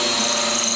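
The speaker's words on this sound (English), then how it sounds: "I'm just going to countersink a hole." Power drill countersinking a hole in a metal trunk grill, a steady high whine, loud and close, held unbroken for under a second.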